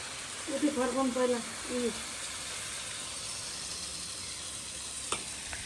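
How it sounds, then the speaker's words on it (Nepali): Sel roti fries in hot oil in a home kitchen: a steady, close sizzle runs throughout, with a voice talking briefly over it near the start. "आज सेल पकाउने चाहिँ हाम्रो ड्याडी, मम्मी हाल्ने, ड्याडी झिक्ने।"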